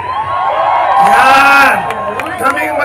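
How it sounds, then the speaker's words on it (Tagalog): Rally crowd cheering and shouting, a loud swell of whoops and yells that peaks and then fades in a brief burst, with a voice calling out over it. "palakpakan na may kasamang sigawan"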